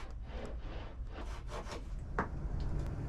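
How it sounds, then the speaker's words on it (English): A small handsaw cuts through the corner of a wooden piece in a workshop, giving a steady run of close rasping strokes with no talking. "I instead opted to use a small handsaw"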